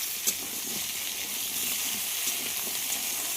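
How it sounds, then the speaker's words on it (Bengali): Taro and potato fry together in a pan, giving a quiet, steady sizzle and hiss with faint stirring, and no one speaks. "আমি এখানে গুঁড়ি কচু আলু একসঙ্গে ভাজছি"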